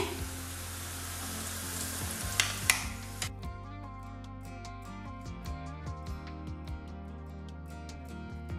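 Oil sizzles steadily as bolinho de chuva dough fries in a small pan, with a few soft clinks and stirring taps near the middle; close and continuous, no talking.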